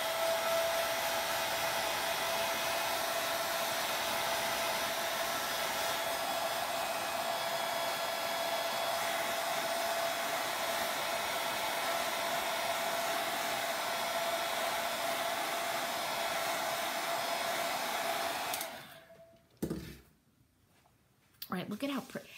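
Hair dryer blowing steadily on Iron Orchid Designs paint inlay, a close, continuous whooshing drone with a steady whine that runs for about eighteen seconds, then cuts off, leaving brief handling noises.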